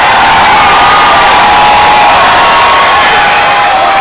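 A packed live-concert crowd at a show in Barranquilla roars and cheers loudly and continuously, a dense wall of shouting and applause with no break.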